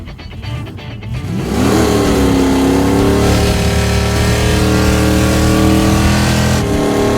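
A Plymouth Road Runner V8 is revved hard close by: the engine note climbs sharply, then holds at a high, steady roar while the car's clutch gives out, with no talking over it.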